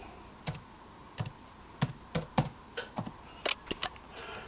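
Keys clatter on an Acer Aspire 17.3-inch laptop keyboard, about a dozen quiet, close clicks typed in an uneven rhythm in a quiet room.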